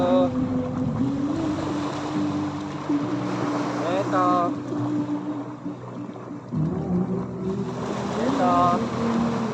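Sea waves wash in a steady roar at the shore, mixed with gusts of wind noise, while people talk and call out over them.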